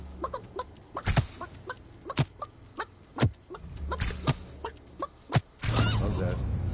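Chicken clucking in the battle royale video game Realm Royale, a run of short, sharp clucks repeating through the clip amid game effects and thumps, fairly close and loud.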